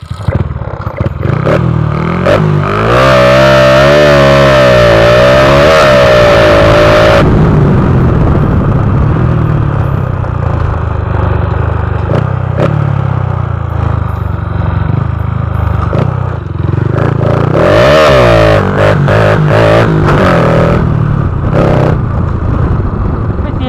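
A Honda Wave 125i motorcycle engine revs hard and close while riding, rising and falling in pitch over two strong bursts with a steadier running drone between them and loose mechanical clatter throughout.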